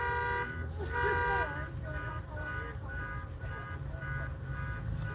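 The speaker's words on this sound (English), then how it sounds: "Can a car alarm set off another car alarm?" Several car alarms sound at once across a parking lot, with layered electronic tones and honks repeating in overlapping rhythms. The alarms are steady and moderately loud with no one in the cars.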